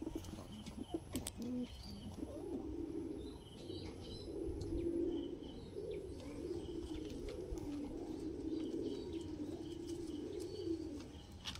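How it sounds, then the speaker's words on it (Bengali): Andalusian King pigeons in a loft coo softly and repeatedly, with low rolling calls running throughout, faint and close, with occasional wing rustles and light chirps in the background. "এটা হলো অ্যান্ডোলেশিয়ান কিং।"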